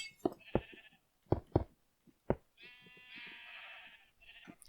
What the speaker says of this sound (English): Now you can release the sheep, like so, and try and attract them all using the wheel.